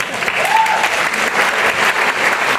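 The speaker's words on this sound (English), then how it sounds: "I think you deserve to give yourselves a round of applause." Steady round of applause from a conference audience at an Alzheimer's summit in Bermuda, dense even clapping filling the room with little else audible.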